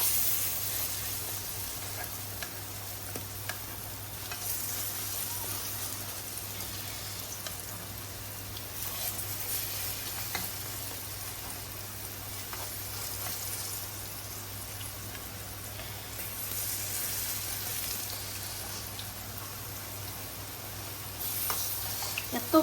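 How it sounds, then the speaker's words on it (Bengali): Bhurji frying in a pan, a steady low sizzle and crackle running throughout with occasional stirring scrapes, fairly quiet and alone with no talk. "আমি বুড়া ভাজা শুরু করে দিচ্ছি"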